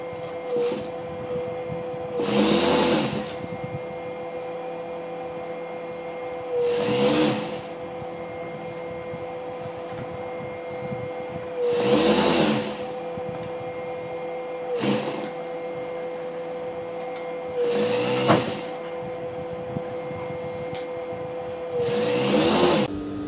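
A sewing machine stitching a Patiala pant runs in five short whirring bursts spaced a few seconds apart, with a quiet steady hum in the pauses between them.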